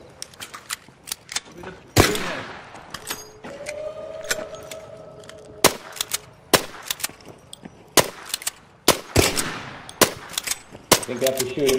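Video game gunfire in bursts of sharp, loud shots with rapid rattling volleys and pauses, while a voice talks over the action.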